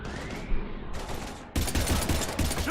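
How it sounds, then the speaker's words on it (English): Dense, sustained gunfire in the Mass Effect 3 video game, with rapid bursts rising to a heavier, continuous barrage partway through, up close and loud. "we're taking heavy fire"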